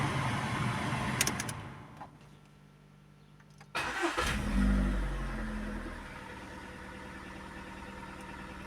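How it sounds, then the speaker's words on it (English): A Skoda car engine cranks briefly and catches, then settles into a steady running idle, close and moderately loud after a quiet pause. "start the engine."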